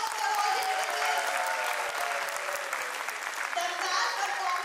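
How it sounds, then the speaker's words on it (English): Audience clapping steadily at a preschool annual concert, a dense, sustained applause lasting the whole stretch with a faint tonal hum underneath. "Can we give a big round of applause for all the individuals?"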